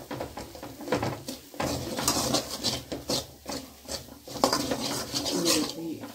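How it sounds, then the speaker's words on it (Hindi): Mutton masala with chilli powder and salt is roasted in a pan, giving loud, busy clatter and scraping of a spoon against metal in uneven bursts that run throughout. "इसको हम थोड़ा सा अच्छी तरह भून लेंगे"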